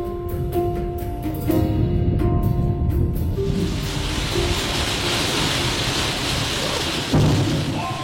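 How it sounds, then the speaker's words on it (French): Thunder rumbles through a nighttime thunderstorm amid close lightning strikes, a loud, sustained roll building into a broad crackling wash with a further heavy boom near the end, no voices present. "accompagnée de coups de tonnerre, tous plus explosifs les uns que les autres"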